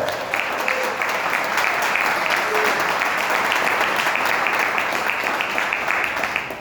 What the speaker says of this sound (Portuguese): Pode aplaudir a Deus.